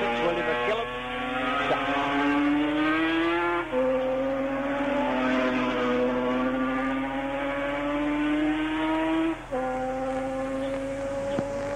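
A racing motorcycle in the 1977 Junior Manx Grand Prix drones with a rising, rough engine note over several seconds, loud and sustained, its pitch dipping briefly partway through.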